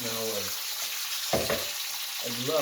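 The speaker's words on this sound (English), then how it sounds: "when I drop these in, you're going to hear them sizzle" Potatoes dropped into hot olive oil in a pan burst into a loud, steady sizzle and crackle, with a person talking briefly just before and again as it continues.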